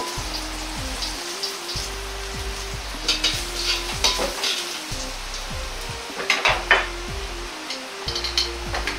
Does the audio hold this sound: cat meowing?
no